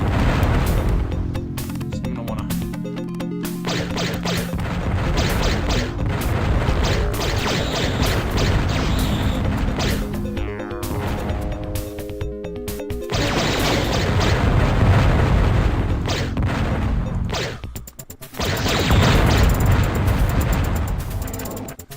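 Dense stream of shooting from the Descent video game: a continuous mechanical clatter of rapid shots and popping blasts, loud throughout over a busy game soundtrack, with brief drops near the end and no talk.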